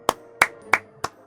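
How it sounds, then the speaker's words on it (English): Four crisp, close hand claps from podcast hosts, evenly spaced about a third of a second apart, fairly soft, with quiet room tone between them. "Give yourself a round of applause, boys, without waking up your roommates"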